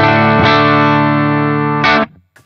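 Clean electric guitar through a G-Lab Rebel Series pedal into a closed-back 4x12 cabinet, two loud sustained chords ringing out, the second struck shortly before the end and quickly muted.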